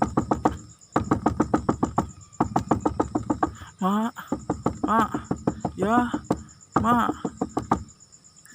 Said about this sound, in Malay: dia ketuk pintu mak dia.